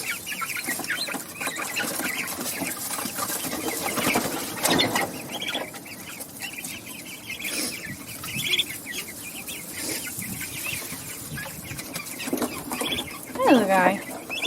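Young chickens and adult fowl on a five-acre farm cluck and call continuously as they are let out of the coop, with a rooster-like call standing out near the end.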